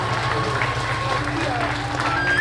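Audience applause at a Balinese drama gong performance, steady clapping over a rhythmic low musical background with voices faintly mixed in.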